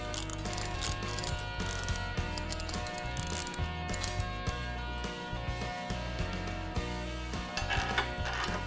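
Portable davit lever being reversed while a manway cover is rolled back into place, giving a steady run of close mechanical clicking, ratcheting and gear-like rattles that continues throughout with no talk.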